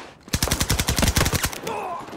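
A rapid burst of submachine gun fire in a first-person shooter video game rattles out roughly a dozen sharp, evenly spaced shots, close and loud, then fades into a short tail.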